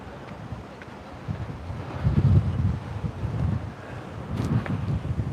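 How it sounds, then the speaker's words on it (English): Strong wind buffets the microphone on a river embankment in Rostov-on-Don, a steady roaring gust that swells and falls, with treetops thrashing nearby. "Very windy."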